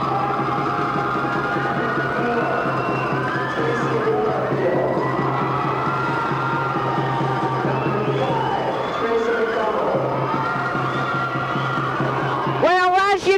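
An excited crowd cheers and screams at a sporting event, a sustained roar of whoops and shouts that swells toward the end, with someone talking over it.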